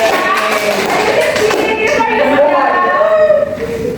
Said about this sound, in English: Give a clap to Surya.